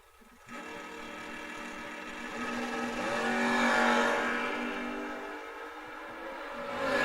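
At a drag racing meet, a first-generation Camaro and a Duster launch off the line, their engine roar swelling to a peak and easing off before rising again, heard from a moderate distance.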